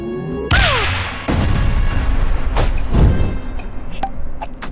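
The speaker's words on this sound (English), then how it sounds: "Blow something up next to something flammable, drop a bomb on the oil drum, catches fire." A loud explosion goes off in the video game Worms 2: Armageddon, a deep boom followed by a sustained roaring, crackling rumble with further blasts, without talk over it.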